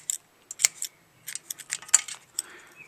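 Scissors snipping carbon exhaust wrap on a Harley-Davidson Sportster Iron, a string of sharp, bright close-up clicks in small irregular clusters with short pauses between them.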